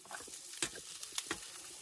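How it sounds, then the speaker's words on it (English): Soft sizzling of potatoes frying in a pan with a few sharp scraping clicks as they are stirred, steady and close. "In the pan, I've got some potatoes frying"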